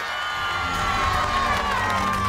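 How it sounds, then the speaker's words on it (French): A crowd applauding and cheering for a guest, a steady wash of noise that stays loud and continuous throughout. "vous fassiez un temps d'applaudissement à Mathieu"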